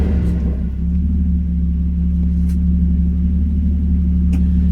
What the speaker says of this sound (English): This is the first test drive on the new bushings.